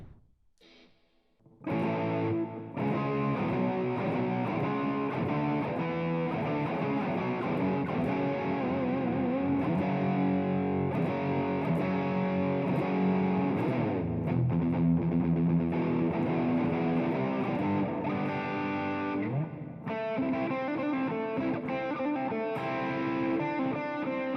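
An electric guitar is played through a VST amp simulator on a computer with distortion and heavy reverb, ringing out in sustained, washing chords and notes for over twenty seconds after a short quiet start, with no talking.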